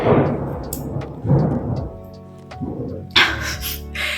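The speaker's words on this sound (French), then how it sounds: "J'ai pas peur des orages, mais celui-là, il a..." Thunder rumbles during a thunderstorm with rain falling, deep rolling peals rising and fading over several seconds, loud and close, with a sharper crack near the end.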